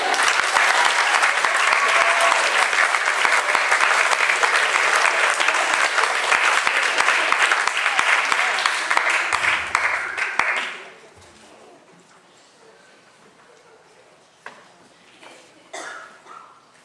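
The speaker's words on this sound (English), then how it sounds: "Another round of applause for Dr." An audience gives a sustained round of applause for the writer of a theatre performance, dense clapping filling the hall for about ten seconds before fading to quiet room tone with a few scattered claps.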